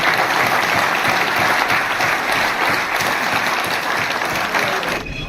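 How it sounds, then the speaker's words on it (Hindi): A crowd of farmers applauds at a meeting with the Delhi chief minister, sustained loud clapping from many hands for about five seconds, tapering slightly just before the end. "ताली बजा दे।"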